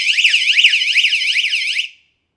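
An aquarium leak detector alarm shrieks loud and close, a piercing electronic siren warbling up and down in rapid repeated sweeps for about two seconds before cutting off abruptly.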